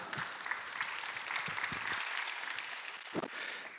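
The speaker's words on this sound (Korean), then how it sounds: "발표자분이 나오셨는데 다시 한번 큰 박수 부탁드립니다." An audience at a church design presentation event claps for a team presenter taking the stage. The applause is continuous and fairly loud, with a dense wash of hand claps throughout.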